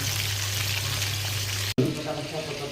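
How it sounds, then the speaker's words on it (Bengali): Marinated fish fries in a pan with a steady, dense hiss of hot oil and a low hum beneath; after a sharp break the sizzle resumes, slightly rougher and uneven. "তো আমি এখন বর্তমানে মাছটাকে ভাজছি"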